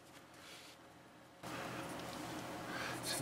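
Pencil graphite scratching across paper in a close, quiet recording, a soft continuous rasp that grows steadier and slightly louder partway through.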